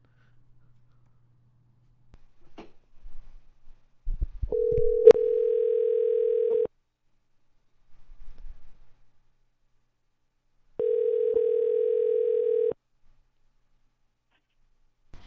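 Outgoing phone call ringback tone, two steady single-pitch rings about two seconds each separated by a pause, clear and moderately loud, with faint handling noises before and between them.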